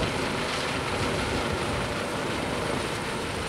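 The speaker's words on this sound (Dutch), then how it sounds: "Het Oerolgevoel is het geluid van de helikopter dit jaar." A helicopter flies over an outdoor festival on Oerol, giving a steady, broad, continuous rotor and engine roar that holds constant throughout with no talk.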